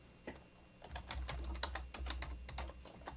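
Fast bursts of computer keyboard typing enter a worksheet tab name in a spreadsheet, with crisp clustered keystrokes close up in a quiet room.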